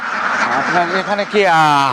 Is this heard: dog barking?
no